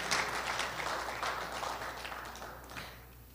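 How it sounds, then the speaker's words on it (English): Faint, distant audience applause at an evening arts and education event honoring Donald Hoffman, a soft continuous patter that gradually fades out toward the end. "please give Donald one more time a round of applause"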